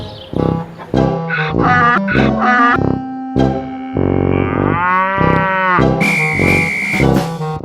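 A cartoon cow moos in a series of loud, drawn-out calls that rise and wobble over a bright musical backing, with no talking.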